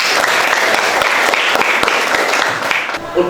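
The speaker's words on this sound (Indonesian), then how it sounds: "tepuk tangan untuk semua" Applause from an audience in a classroom, a dense steady patter of many clapping hands that holds throughout, then thins slightly near the end.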